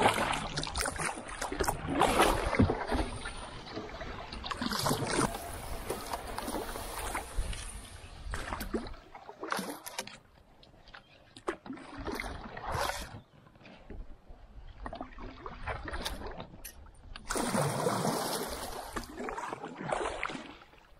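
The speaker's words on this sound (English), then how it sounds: "going up the creek with three paddles" A loaded canoe heads up a creek toward the Temagami highlands with three paddles, giving irregular splashes, knocks and dripping strokes up close, separated by short quieter gaps.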